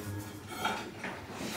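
Dishes and cutlery clink briefly and softly while a dishwasher is loaded in a home kitchen, with a few light knocks under a low, steady background.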